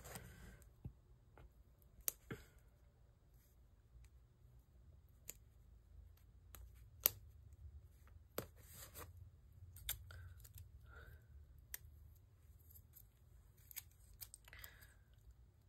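Scissors cutting paper during a planner setup, scattered sharp snips and clicks spaced irregularly over a quiet background, faint and close with no speech.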